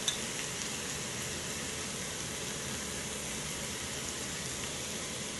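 Steak au poivre cooking in a pan gives off a steady, dense sizzle that holds evenly throughout, with no one talking over it.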